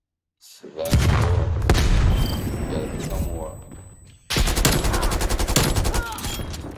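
Bursts of automatic gunfire from a video game, a long loud volley followed by a short gap and then a second dense burst of rapid shots.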